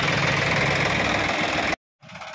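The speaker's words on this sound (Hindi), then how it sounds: "745 है Sonalika tractor, full loading tractor है" A Sonalika 745 tractor engine, fully loaded and hitched to a single trolley, runs with a loud, steady, knocking diesel rumble up close, cuts out abruptly for a moment, then resumes.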